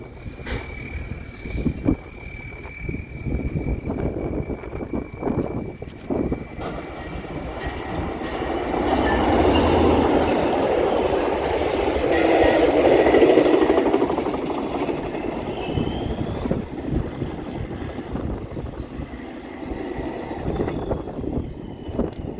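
A Metrolink train passes, its rumble swelling to a loud roar mid-clip and fading, with clattering wheels, a steady horn-like tone and scattered knocks throughout.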